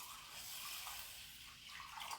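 Rice and water, one and a half cups of rice with three cups of water, pour into a steamer in a steady splashing gush that carries on throughout.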